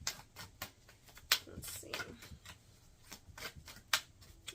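Tarot cards are shuffled by hand in a quiet room: a series of soft, crisp riffles and flicks in an uneven rhythm, close and faint, with a brief spoken murmur.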